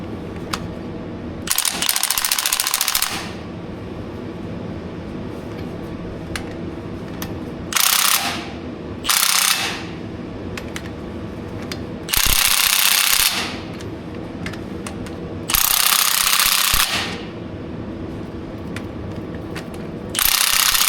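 An impact gun rattles in five loud, hammering bursts of one to two seconds each while tightening wheel nuts on an A4T, with quieter mechanical clatter between the runs.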